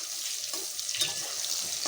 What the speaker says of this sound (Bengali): একটু বেগুন ভাজা করছি